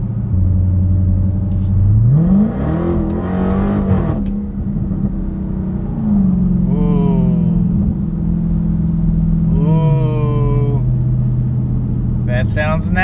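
A deep, rough Dodge Challenger Hellcat V8 with its mufflers deleted and DynoMax Race Bullets fitted rumbles close by, revving up sharply several times and falling back to a loud, burbling idle between pulls.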